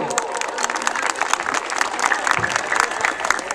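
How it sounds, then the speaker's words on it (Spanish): A room full of people claps steadily, a dense burst of applause that stays even for a few seconds. "recibámoslo con fuertes aplausos"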